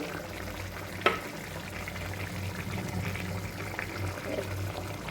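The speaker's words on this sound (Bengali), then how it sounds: "একটু জিরে বাটা আর একটু চিনি দিয়ে দিচ্ছি এখানে" Mutton cooking in a pan as cumin paste and sugar are added, giving a steady low sizzle with soft scraping and one sharp clink near the start.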